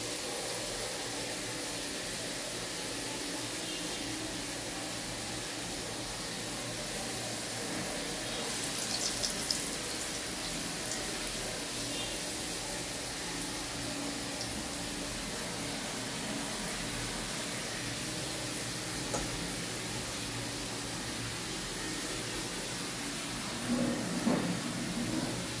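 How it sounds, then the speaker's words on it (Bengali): Bora fritters made with green chilli and ginger paste frying in hot oil in a home kitchen, a steady quiet sizzle and hiss throughout, with faint clinks near the end. "বড়াগুলো ভাজা হোক, ভাজা হয়ে যাক"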